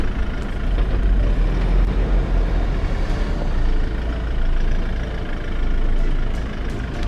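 A standard 4x4 vehicle crawls over an obstacle on a Lion and Safari Park trail, its engine droning loud and steady with a deep low rumble throughout, alone without voices.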